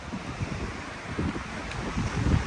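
Strong wind buffets the microphone with a steady roaring rush, gusting louder toward the end; no voices.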